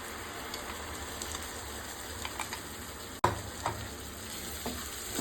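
Ground masala paste and onion fry for aloo kurma, making a steady sizzle in the pan, with a sharp clatter partway through and scraping stirs afterward, and no talk.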